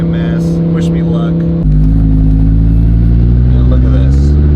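A truck engine cranks and catches about a third of the way in, then idles and revs loudly and steadily up close.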